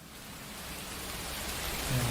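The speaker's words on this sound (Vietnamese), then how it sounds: "Đây là âm thanh mưa" Rain sound effect played back from a nature sounds website, a steady soft hiss of falling rain, faint and continuous with no talk.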